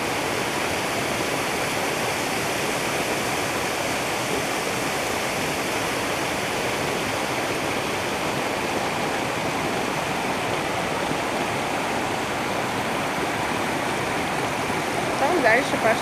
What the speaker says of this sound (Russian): Дальше пошла речка.